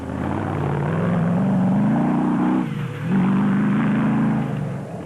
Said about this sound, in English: Schroeder and Peckham were making Ford fans' hearts beat custard as they sped along